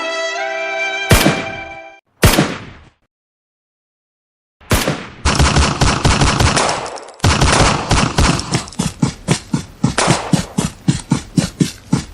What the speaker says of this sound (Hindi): यहाँ पटाखे नहीं गोलियां चल रही है